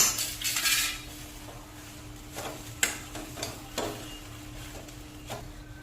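Torn bread pieces being mixed in a pan for bread fry, with a metal utensil clinking and scraping against the cookware over a faint low sizzle, a few sharper knocks standing out.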